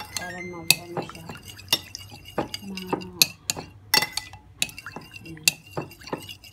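A spoon stirring a homemade yogurt mixture in a container, with irregular clinks and scrapes against the sides and soft liquid swishing, close and clear, as a voice talks in between.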